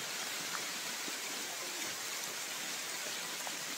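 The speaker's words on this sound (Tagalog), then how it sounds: "Lumakas yung ulan." Heavy rain pours steadily on a mountain trail during a climb of Mt. Mantalingahan, a dense, even hiss of drops close around with no break and no voices.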